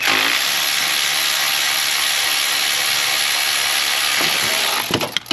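A ratchet tool tightens the valve cover bolts on an LS engine with a steady, loud, close mechanical whir, ending in a few sharp clicks.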